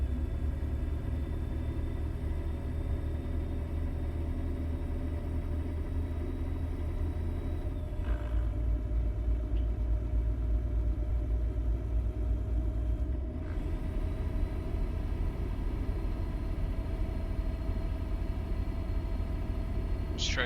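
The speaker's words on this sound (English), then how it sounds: "I think I put a Cummins in it just for sound" The Cummins engine of a truck in American Truck Simulator drones as a steady, loud, low rumble for the whole stretch, with slight shifts in pitch and a short break partway through, heard from the cab.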